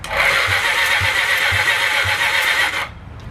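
A Honda CB750 engine on a drag bike project turns over on the starter for a finger compression check, a steady whirring crank with rhythmic low pulses about twice a second, close and loud, stopping abruptly near the end.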